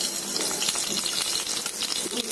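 Coriander seeds crackle and sizzle in hot oil for gongura chutney, a dense, loud, continuous frying hiss with fine popping throughout.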